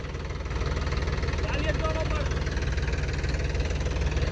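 A tractor loaded with fertilizer, stuck in a farm field, runs its engine with a steady low knocking idle throughout, with voices murmuring faintly beneath it.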